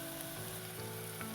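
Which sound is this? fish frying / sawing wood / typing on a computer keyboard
fish frying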